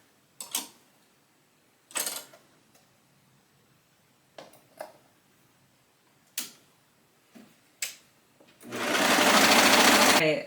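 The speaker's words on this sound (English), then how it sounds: "I'm gonna go ahead and serge the ties together so I can sew those." A serger stitches fabric ties together: several short, separate clicks and whirs, then a steady, loud run of stitching near the end.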